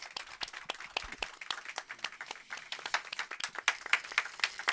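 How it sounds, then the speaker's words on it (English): Audience applause for a panel at a talk on affordable housing in garden cities, a modest scattering of individual claps of varied loudness, fairly close and continuous. "I would like us to give a big applause to Martin and the panel"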